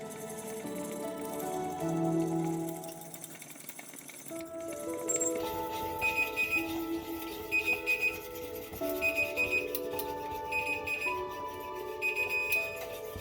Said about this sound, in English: Alright, so there's my timer.